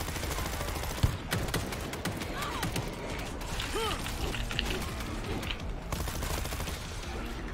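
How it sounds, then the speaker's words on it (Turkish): Rapid gunfire from the World War Z zombie shooter, bursts and single shots crackling continuously over a dense game soundscape with a sharp louder shot near the start, with voices talking underneath. "Benim silah sesini duyuyorsunuz mu?"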